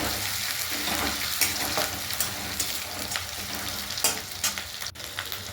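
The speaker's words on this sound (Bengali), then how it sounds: "তারপর এর মধ্যে পরিমাণ মতো রসুন বাটা দিলাম এবং নাড়তে চাড়তে লাগলাম।" Garlic paste sizzles steadily in a hot pan while being stirred for a fish curry, a dense close frying hiss broken by scraping clicks from the spoon, with no talking.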